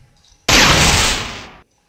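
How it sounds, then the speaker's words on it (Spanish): Thunder 2 animation sound effect from RPG Maker VX Ace: a single loud, sudden crack that swells into a broad rumbling roar for just over a second, then fades and cuts off into silence. "Y vamos a mirar cómo es la de Trueno 2."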